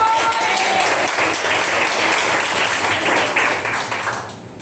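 A church congregation applauds together, a thick continuous wash of clapping at close range that holds steady and then starts to taper off toward the end.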